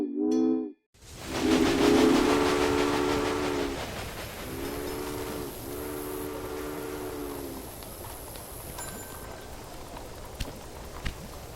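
A train in the Railway Empire video game sounds a harmonic horn in several blasts, then rolls along with a steady rumble that slowly fades, and a few faint clicks close it out.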